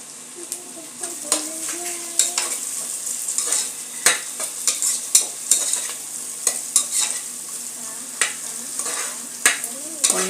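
Green chilies sauté in a pan for chicken biryani, a steady close sizzle broken by repeated sharp scrapes and taps of a spoon stirring, with no talking.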